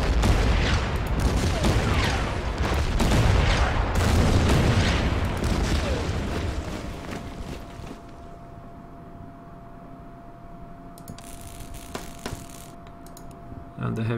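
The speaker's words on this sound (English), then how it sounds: "Get the artillery into action." Booming artillery salvos in the WWII strategy game Order of Battle, a dense rumbling barrage of overlapping blasts for several seconds that fades into a quieter steady hum, with a burst of softer crackling near the end.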